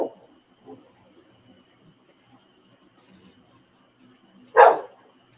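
A dog gives a single sharp bark near the end, reacting to a flashlight being picked up indoors; before it there are only faint thumps and quiet room noise, with no talking.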